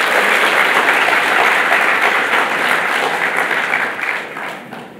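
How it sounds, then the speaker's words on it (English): A DevFest Kolkata audience applauds the organizing team: broad, energetic clapping from a large crowd, loud and steady at first, then thinning and tapering off toward the end. "A big round of applause for the organizing team."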